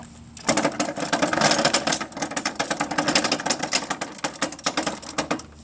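A John Deere JS63C walk-behind mower's rear caster wheel being rolled forwards, giving a fast, steady stream of loud mechanical clicks close by, with no talking.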